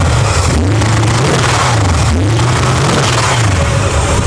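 A 1983 Chevrolet C10 pickup with a rowdy 350 V8 revs hard, its deep engine note rising and falling in repeated blips over a few seconds, loud and close with no talking.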